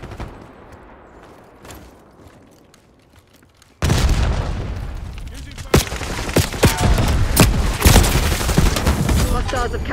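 A frag grenade explodes in a Call of Duty Black Ops 6 multiplayer match, a sudden loud boom followed by sustained gunfire bursts and battle noise, close and dense, after a quieter stretch.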